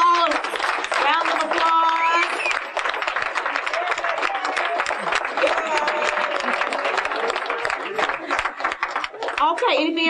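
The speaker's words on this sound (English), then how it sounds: "Can we give them all a round of applause?" Audience at a drug court graduation ceremony in Cleveland clapping in sustained, dense applause for the graduates, with scattered voices and cheers mixed in across the whole stretch.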